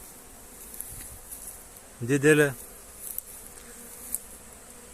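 Honey bees buzzing around hives on a warm day during swarming season: one loud, close buzz sweeps past briefly over a quiet outdoor background, and a voice speaks a single word.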